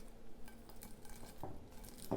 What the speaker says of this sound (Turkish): Cam kaba veya cam kavanozumuza cam sülahimize yerleştirelim.